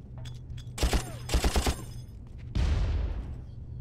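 Bursts of SAW light machine gun fire in the video game Far Cry, several rapid close volleys followed by a longer heavy burst with a booming tail, loud and alone.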